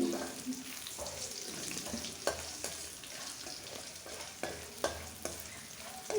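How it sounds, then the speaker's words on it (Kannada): Chili powder, turmeric and salt sizzle in hot oil in a pan, making a continuous frying hiss broken by stirring clicks and scrapes of a spoon, close and steady. "ಅಚ್ಕಾರದ ಪುಡಿ ಹಾಗೆ ಸಾಲ್ಟ್ ಹಾಕ್ಕೊಂಡು ಮತ್ತೆ ಫ್ರೈ ಮಾಡ್ಕೋಬೇಕು"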